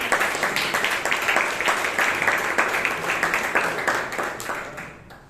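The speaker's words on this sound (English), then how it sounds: "Let's give a round of applause." Audience applause at a Toastmasters club meeting in Bangalore: dense, steady clapping that carries at an even level for several seconds, then thins and fades out near the end.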